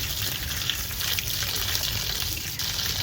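Freshly dug taro is washed under a running water tap, and the water gushes and splashes in a steady, close, continuous stream with no voices.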